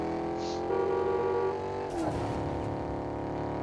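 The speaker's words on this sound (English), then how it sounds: "That car sounds so good." A car engine in a video game hums and revs, then shifts pitch with a brief whoosh as it accelerates, steady and fairly loud throughout.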